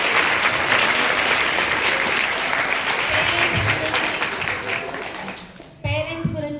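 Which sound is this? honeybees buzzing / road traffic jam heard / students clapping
students clapping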